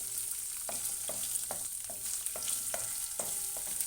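Onions frying in a pan with green chilli, curry leaves and ginger for a cracked-wheat upma, a bright steady sizzle broken by regular scraping strokes of a spoon about every half second.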